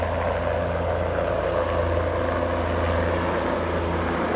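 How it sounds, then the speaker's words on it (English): A steady, moderately distant helicopter drone hums continuously over a river during a morning cleanup, with a low rotor throb and no voices. "Helicopters back and forth all morning here."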